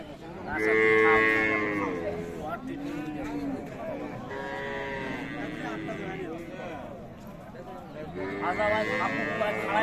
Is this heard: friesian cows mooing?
yes